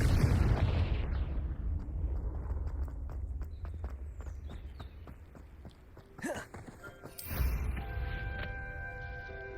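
A Confringo fire spell in Hogwarts Legacy bursts with a heavy blast that fades into crackling debris and footsteps, followed by sharper magical whooshes, moderately loud with no talk.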